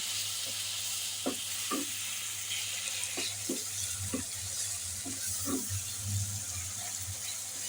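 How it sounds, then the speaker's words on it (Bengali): Spices with turmeric fry for a pabda fish curry, giving a soft continuous sizzle broken by repeated scraping and stirring clacks from a utensil against the pan, close by and fairly quiet. "এখন আমি দিয়ে দিব হলুদ পরিমাণ মতো। এগুলিকে ভালো করে কষিয়ে নিব।"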